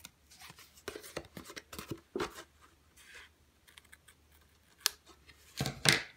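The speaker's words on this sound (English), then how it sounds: "Trim it down here." Scissors trimming paper for a handmade Valentine's Day card: a quiet series of short, crisp snips at an uneven rhythm, with a few sharper cuts and paper rustles near the end.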